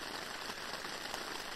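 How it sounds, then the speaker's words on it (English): Steady rain patters on a tent, close and even, a dense hiss of drops with no talking, during a first night's camp on the Pacific Crest Trail. "And hopefully it'll quit raining so I can eat."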